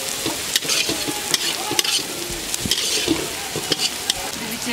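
Bay leaves, cinnamon, cracked cardamom, black pepper, dried red chillies, cumin and onion fry in oil as the base for a rohu fish curry with cauliflower and potatoes. A loud, dense sizzle runs throughout, broken by frequent crisp stirring clinks. No one speaks.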